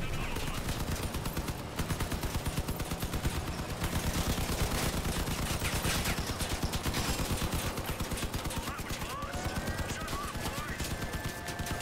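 Dense, continuous automatic gunfire from auto-targeting weapons on combat vehicles in the Crossout vehicle-combat game, with rapid rattling bursts and overlapping shots sustained throughout, loud and close.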